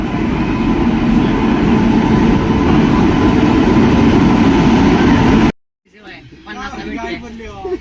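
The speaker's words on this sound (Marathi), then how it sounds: "तर आता आलेली आमची सोलापूर ट्रेन" The Solapur train pulls into Renigunta station with a loud, steady roar and rumble of rolling wagons for about five seconds. It cuts off abruptly, and people begin talking afterwards.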